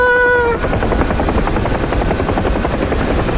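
Rotor of a helicopter in the DCS World flight combat game during a naval autorotation contest, a loud, steady, rapid chopping thump that fills the whole clip, opening briefly over a high whining tone.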